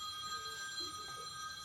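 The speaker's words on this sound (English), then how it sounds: "my phone's ringing" A mobile phone rings faintly with steady tonal electronic ringing, heard alone in a quiet setting.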